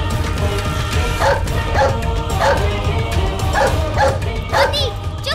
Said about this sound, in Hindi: मोती चुप एक बार भी और भौंकले तो हम तोरा से कभी बात ना करब